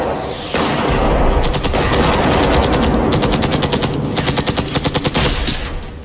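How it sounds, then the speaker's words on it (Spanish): Rapid automatic gunfire from an enemy in the video game Generation Zero, a loud sustained burst of fast repeated shots that continues for several seconds before tapering off. "Que hay uno ahí al fondo que está disparando"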